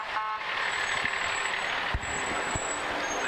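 A Star Rental truck rolls past in a classic car parade, its broadband engine and road noise steady and close throughout, with faint thumps and a high whine over the rumble.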